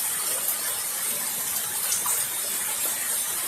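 Rainwater pours strongly from a downspout into a barrel, overflowing into a second barrel, a steady close rushing gush with no talk.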